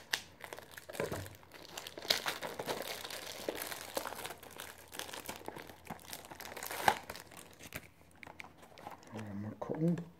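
Plastic packaging on a loot-chest unboxing item is cut open with scissors, giving close, continuous crinkling and tearing rustles with occasional snips, while someone speaks intermittently.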